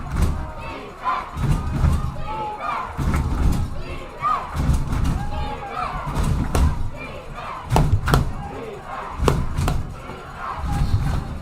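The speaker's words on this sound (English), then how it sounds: "And now the Wilton crowd gets into it once again." Home crowd at a Wilton High School football game against Greenwich cheering and shouting in rising swells, with scattered thuds and loud bursts over steady stadium noise.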